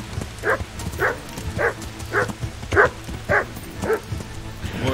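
A hostile dog in the medieval video game Kingdom Come: Deliverance barks steadily and repeatedly, about nine evenly spaced barks, close and clear over low background game ambience.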